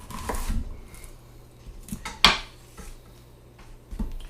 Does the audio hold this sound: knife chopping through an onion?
yes